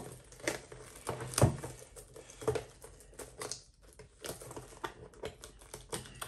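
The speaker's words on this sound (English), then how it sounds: "Open it up with my scissors." Quiet, close scraping and light scissor snips, with scattered clicks and crinkles as a Yu-Gi-Oh! card box is cut open and handled.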